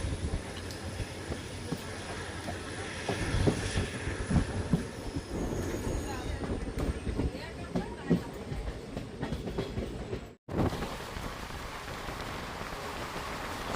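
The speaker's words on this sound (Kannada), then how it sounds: "ಒಂದು ನಿಮಿಷ ಹಾಲ್ಟ್ ನಂತರ ನಮ್ಮ ಟ್ರೈನು ಶಿವನಿ ರೈಲ್ವೆ ಸ್ಟೇಷನಿಂದ ಹೊರಟಿದೆ" A train pulls out of Shivani railway station, a continuous low rumble of wheels and carriages with faint rattling clicks, steady and moderately distant, with a brief dropout near the end before the rolling noise resumes.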